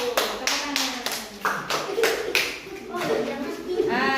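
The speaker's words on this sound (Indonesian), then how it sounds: "tepuk tangan" A group of people clapping their hands together, a fairly loud, steady burst of applause running the whole time, with voices mixed in.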